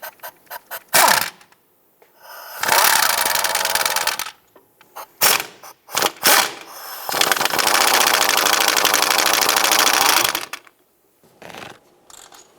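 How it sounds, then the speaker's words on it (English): A 16mm shallow socket on a long extension ratchets repeatedly as starter bolts are broken free on a 2008-2013 Nissan Rogue, with close, loud buzzing runs of clicks separated by short pauses. "Using a 16mm shallow socket and a long extension, let's go ahead and break these bolts free and remove them"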